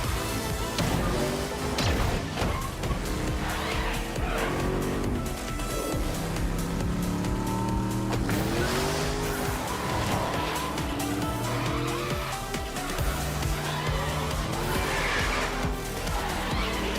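Racing cars in the video game Rocket Racing scream past with tire squeals, skids and engine whines, sustained and busy with occasional impact hits over game music.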